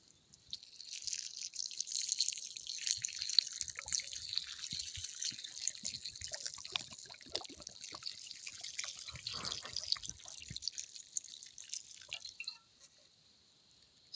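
Hot water is poured onto a colour-changing toy chameleon, giving a soft, close trickling and dripping splash that continues unevenly for several seconds before fading out.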